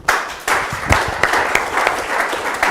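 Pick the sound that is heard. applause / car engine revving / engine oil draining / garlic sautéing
applause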